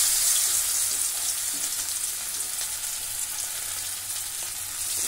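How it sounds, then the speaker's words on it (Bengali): Turmeric-coated hilsa fish frying in hot oil in a wok, giving a steady, fairly loud broadband sizzle that holds evenly throughout with no talk. "এই যে দিয়ে দেবো গায়ে হলুদ করা মাছকে পুরোপুরি কড়াই"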